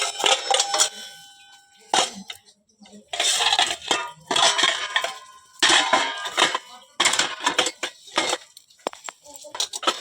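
Steel dishes and utensils clatter and clink in irregular bursts as they are gathered for washing after cooking on a village clay stove, with quiet gaps between the clusters.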